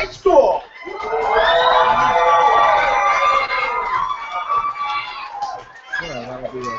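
A high school poetry slam audience at Louder Than a Bomb Great Plains 2014 whoops and cheers loudly, with excited shouts and voices swelling and fading over several seconds.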